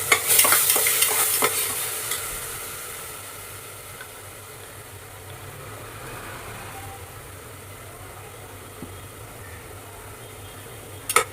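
Tomatoes fry in oil for mutton biryani. A brisk sizzle with stirring clatter at the start settles into a quieter steady frying hiss, with a light knock at the very end.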